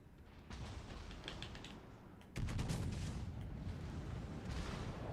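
Ship guns fire in World of Warships Legends, a faint, rumbling barrage of repeated booms and rattling salvos that grows heavier partway through, with no talk.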